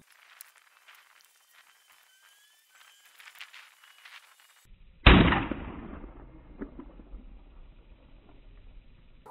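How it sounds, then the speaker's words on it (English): A single loud muzzleloader shot, fired with Pyrodex powder and a birdshot load, cracks sharply after several seconds of quiet outdoor ambience and then fades into a lingering rumbling echo. "we'll take a few shots at a few different ranges and see how it does"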